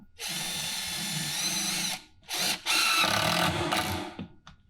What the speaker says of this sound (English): this next screw is going to sink that down and make it go away